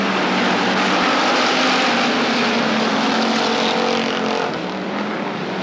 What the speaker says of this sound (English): Watch the 97 car, Chris Laney, slicing through traffic now.